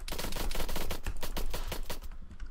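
Rapid automatic gunfire in the military shooter game Arma 3, a dense unbroken burst of loud, close shots rattling on for the whole stretch with no voices over it.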